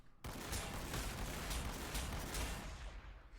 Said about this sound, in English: That's a super cannon.